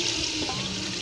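Water poured from a glass into a biryani pot of meat and yogurt, a steady pouring and splashing wash heard close and alone.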